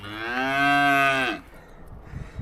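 A cow close by in an Alpine pasture gives one long, loud, resonant moo that fades out, followed by quiet ambient rustling.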